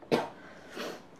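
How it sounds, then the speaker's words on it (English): Two short coughs from a person living with chronic illness, a sharp close cough followed by a softer one after a pause, with no speech. "Yes, the cough is still here."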